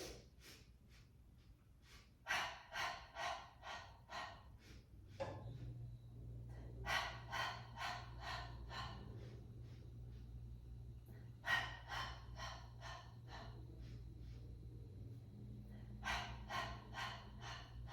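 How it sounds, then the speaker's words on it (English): A Pilates class does paced breathing, inhaling through the nose and exhaling through the mouth. Sets of about five or six quick, sharp sniffing breaths alternate with longer pauses over a low steady hum. The breathing is close and fairly quiet, with no talking. "we're gonna do 5 inhales through the nose and 5 out through the mouth"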